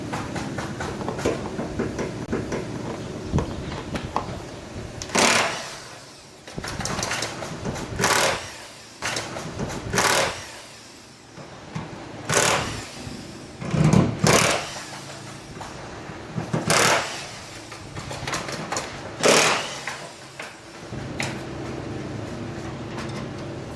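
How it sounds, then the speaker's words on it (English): A power tool removes the seat bolts inside a 2003-12 Volvo XC90, sounding in repeated short loud bursts separated by quieter gaps. "I'm going to go through and pull all the bolts out and pull the seats out"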